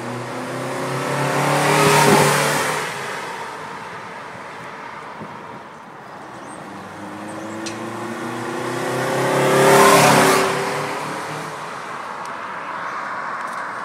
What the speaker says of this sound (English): We're gonna go for a rip and see how she sounds.